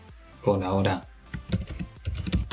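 Keys clatter on a computer keyboard in a quick burst of typing, close and fairly quiet, while a voice talks over part of it.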